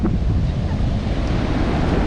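Ocean waves breaking on a beach, a loud, continuous roar of surf mixed with heavy wind buffeting the microphone, and no voices over it.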